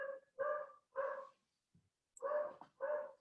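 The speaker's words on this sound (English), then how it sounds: "I hear a dog" A neighbour's dog barks four times in two pairs, each bark full and fairly close, with a brief soft yip in the pause between them and no talk over it.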